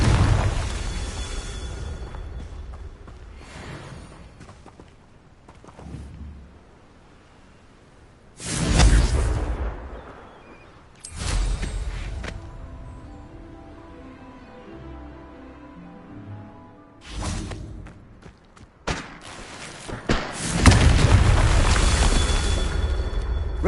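Confringo blasting-spell explosions in the Hogwarts Legacy video game erupt as several loud booming bursts with whooshing tails, spaced apart by quieter stretches of game ambience and faint music.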